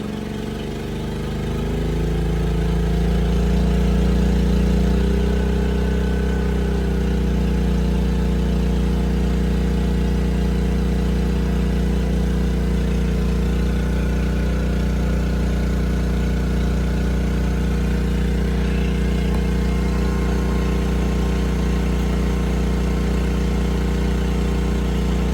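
A petrol generator engine ramps up within the first few seconds, then holds a loud, steady drone as it comes under load from an Eltek Flatpack 2 charger feeding a Pylontech battery system.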